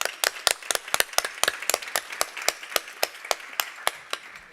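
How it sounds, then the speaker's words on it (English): At a tech week stage event, a modest audience claps for a group of CTOs, the claps sounding as crisp, clearly separated strikes in a loose, irregular rhythm, fairly close and with no talk. "do a first round of applause for all our CTOs"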